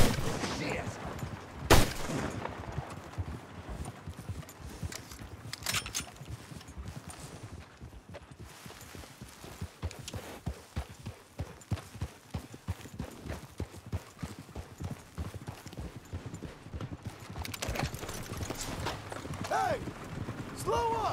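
Horse hooves pound along in Red Dead Redemption 2 free roam, a rapid clip-clop under game noise with sharp gunshot-like bangs and voices talking at times.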